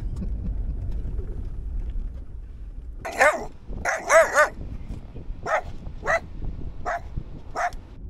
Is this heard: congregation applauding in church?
no